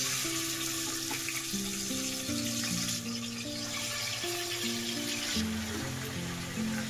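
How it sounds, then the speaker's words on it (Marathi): Chicken pieces frying in hot oil in a kadhai for chicken bhuna, giving a steady close sizzle with occasional stirring and watery clatter throughout, no talking. "चिकन भुना म्हणून चिकन फ्राय करून घेणार आहे पहिला,"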